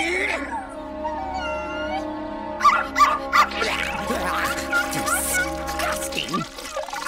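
A cartoon dog yips, barks and whimpers in short bursts over a steady music bed, with a light watery pouring sound mixed in; the Halloween-special cartoon setting gives it an animated, exaggerated character.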